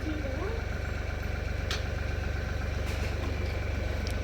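A car engine idles steadily throughout, a continuous low rumble with no revving, while a voice speaks faintly over it.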